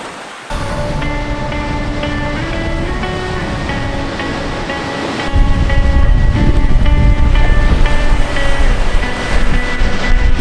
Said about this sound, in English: once we get to the waterfalls, I'll let you see.